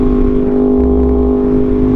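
A Yamaha R1 sport motorcycle engine runs with a steady, loud, close drone for two seconds, holding a strong even tone with a brief extra low rumble partway through as the clutch comes up.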